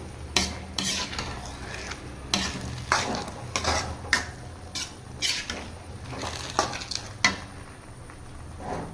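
Grated carrot halwa is stirred in a pan: irregular scraping strokes of the spoon recur every second or so over a low, faint sizzle.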